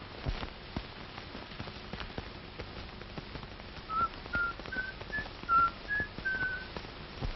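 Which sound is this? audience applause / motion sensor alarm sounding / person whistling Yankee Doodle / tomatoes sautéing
person whistling Yankee Doodle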